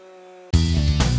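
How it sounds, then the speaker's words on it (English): A chainsaw fitted with a 63 PS chain in a timed cutting race on a 10-inch log: a low idle hum, then an abrupt loud roar as the saw revs and bites into the wood, with a brief change in pitch near the end. "We're gonna each do four cuts in a 10-inch log"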